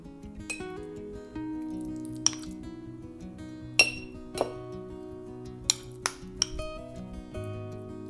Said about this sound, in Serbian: U svaku teglu sipat ću po supenu kašiku pavlake